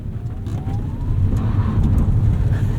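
A 2024 Fiat 500e electric car slowing under one-pedal deceleration in range mode, a steady low road and tyre rumble with a faint rising whine, heard from inside the cabin.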